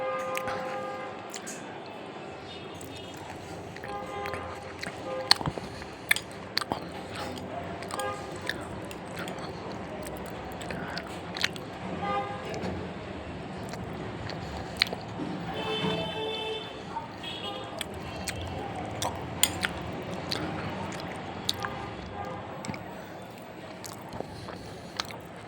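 Someone eats payesh, a rice pudding of coconut milk and small-grain rice with coconut bits, with soft chewing and occasional sharper bites close to the mic over a steady background.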